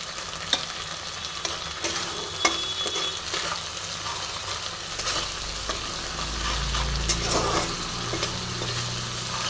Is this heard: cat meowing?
no